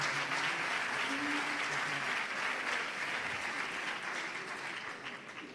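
Sustained applause from an audience at the 2022 sports awards gala in Béjar, a soft, distant-sounding wash of clapping that holds steady and fades slightly toward the end.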